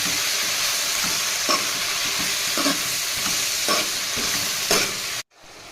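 Gongura leaves sizzling in a pan with green chillies and onions, a steady frying hiss broken by several soft stirring scrapes, ending in a brief cut to silence.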